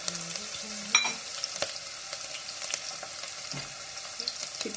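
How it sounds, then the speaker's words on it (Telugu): Tempering spices crackle and sizzle in hot oil in a home kitchen, a steady frying hiss with scattered pops, fairly close and alone. "పోపుకైతే వేసేసుకుంటున్నా."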